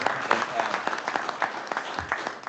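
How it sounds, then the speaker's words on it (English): Applause at a monthly board meeting, a small group clapping steadily and moderately loud for the whole stretch, with some room murmur mixed in. "round of applause, please"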